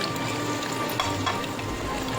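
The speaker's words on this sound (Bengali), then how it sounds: "হালকা হাতে খুবই আলতো করে পনিরগুলি নেড়েচেড়ে একটু ভালো করে ভেজে নিতে হবে।" Oil sizzles steadily and loudly as paneer cubes fry in a wok, with faint scraping from gentle stirring.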